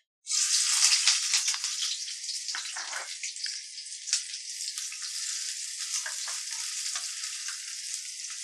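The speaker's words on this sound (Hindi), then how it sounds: "ऑयल गर्म हो गया है अब इसमें सबसे पहले हम डालेंगे प्याज" Onions hitting hot oil in a kadai with a sudden loud sizzle that starts abruptly and holds steady, crackling bright and close with no talking.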